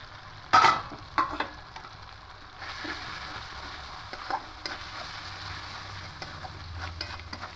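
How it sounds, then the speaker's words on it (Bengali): Ground coriander, turmeric, cumin and Kashmiri chilli powder frying and being stirred in a pan for a home-style chicken and potato curry, with a few sharp scrapes early on, then a steady low sizzle with occasional stirring clatter. "এবার একে একে সব মশলাগুলো দিয়ে দেবো"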